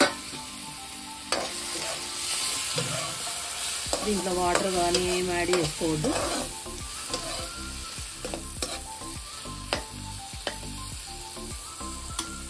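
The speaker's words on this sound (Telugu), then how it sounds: "ఓన్లీ ఆనియన్ టమాటా కొంచెం ఆయిల్లో ఫ్రై అయిపోవాలి." Onion and tomato fry in a little oil with no water added for a masala vankaya (eggplant) dish, sizzling steadily while a spoon stirs and scrapes the pan in repeated clatters, and a voice speaks briefly over it.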